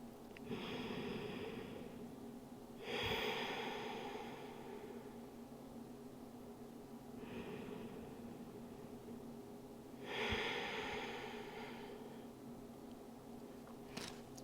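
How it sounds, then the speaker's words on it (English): Slow deep breaths during a pregnancy-safe morning yoga flow, with soft airy inhales and exhales in a steady rhythm at about 3, 7.5 and 10.5 seconds over a low background hum, close and quiet. "Take 3 deep breaths here."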